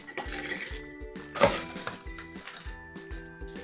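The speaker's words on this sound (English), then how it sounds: "We want to fill it with ice." Ice cubes clink and rattle into a glass for a Frostbite cocktail, a quick cluster of bright glassy taps and scrapes with one louder tumble midway, close and without talking.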